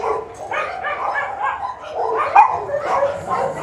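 A pit bull barks and yips continuously at close range, with rapid, excited, high-pitched vocalizations running throughout and no distinct speech over them.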